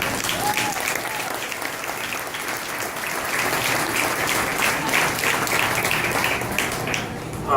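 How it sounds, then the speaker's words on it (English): A county fair crowd applauds youth showmanship competitors, steady loud clapping from many hands that runs the full seven seconds, with faint voices underneath. "Let's give them a round of applause."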